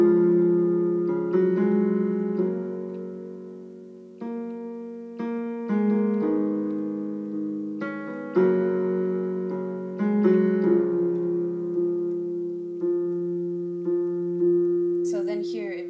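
Piano chords from a song, played one after another at a slow, even pace, each struck chord ringing out and decaying before the next, close and clear with no voice.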